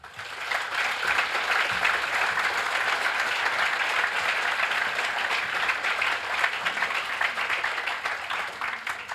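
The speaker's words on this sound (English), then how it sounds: "So just another round of applause for those beautiful, honest, and open letters." An audience at a commemorative event applauds warmly, a dense, sustained wash of clapping that holds steady and loud for the whole stretch with no voices over it.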